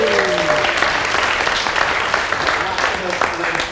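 Wedding guests burst into dense, continuous applause for the newlyweds. A voice is briefly audible at the start.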